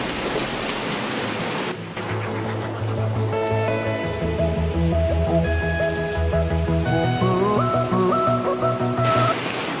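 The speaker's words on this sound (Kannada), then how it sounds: "ಈ ಥರ ಮಳೆ ಬರ್ತಾ ಇದೆ" Heavy rain hisses steadily throughout, with a tuneful melody playing over the downpour.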